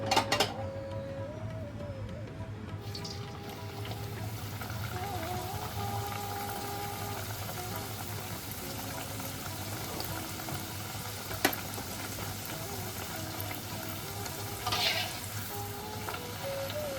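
Jibe goja, a Bengali sweet, frying in hot oil in a kadai, a steady bubbling sizzle that runs throughout, with an occasional scrape or clink of the utensil against the pan.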